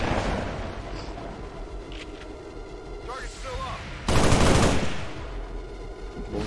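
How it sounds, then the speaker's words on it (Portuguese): Gunfire in the turn-based strategy game XCOM 2 (War of the Chosen, Long War 2 mod), with rattling bursts amid battle effects and a loud blast near the end, under someone talking in Portuguese. "Tiro."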